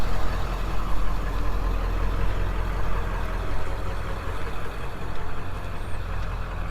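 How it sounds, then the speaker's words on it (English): A truck rumbles past steadily near an airfield during a T-28 Trojan aircraft walk-around, its low engine drone holding loud and even for several seconds with no talking over it. "We might let this truck get by first."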